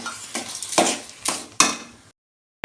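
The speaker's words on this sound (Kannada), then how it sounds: "ಸೊ ಸಕ್ಕರೆ ಹಾಕಿ ಚೆನ್ನಾಗಿ ಮಿಕ್ಸ್ ಮಾಡ್ಕೊಳ್ಬೇಕು" Metal spoon scraping and clinking against a pan while sugar is stirred into jackfruit halwa, four distinct scrapes in about two seconds, close and fairly loud, then silence.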